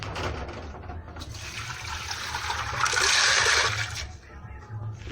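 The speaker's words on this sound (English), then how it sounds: "I'm going to pour some more water in that" Water poured from a container into a pressure cooker of stew peas, a rushing, splashing pour that swells loudest midway and then tapers off, with a voice talking faintly underneath.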